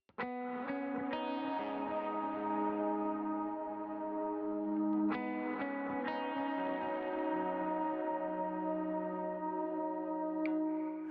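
An electric guitar plays the melody line of the worship song "Jesus We Love You", notes ringing out and smearing together through heavy delay and reverb, alone without any voices.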